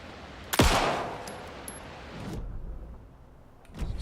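A single sharp gunshot in the video game Alan Wake 2 rings out loud and close, followed by a decaying echo, a duller thump and a later softer impact.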